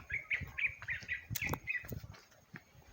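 Birds chirp in a forest near the Ngabunat caves, a run of short bright tweets at moderate distance with some rustling and a couple of sharper bursts in between.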